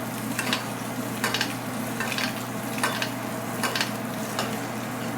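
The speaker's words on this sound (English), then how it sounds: "baste the top of your fish, and that cooks it and keeps all your awesome moisture in there" Fish frying in a butter-filled pan while being basted, a steady loud sizzle with rhythmic bursts of spattering as hot butter is spooned over the top, no talking.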